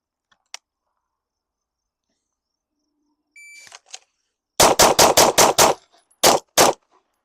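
Pistol shots in a shooting drill, a rapid string of about five sharp, loud cracks followed after a short pause by two more, with faint clicks and handling noise before the firing.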